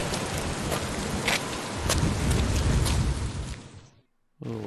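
Steady heavy rainfall hisses across old ruins in the video game Hitman Contracts, dense and close, then cuts out abruptly before a low tonal sound begins.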